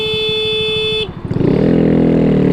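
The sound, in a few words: Volkswagen Beetle car horn honking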